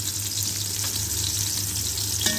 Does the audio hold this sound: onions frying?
yes